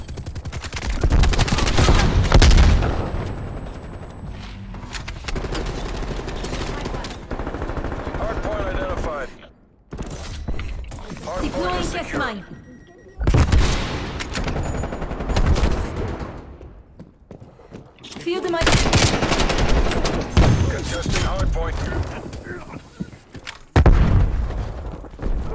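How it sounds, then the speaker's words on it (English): Rapid automatic gunfire in Call of Duty Cold War multiplayer bursts loudly in dense volleys with short pauses between them, mixed with booms and a voice talking over the shooting. "I'm literally shooting bullets at these guys"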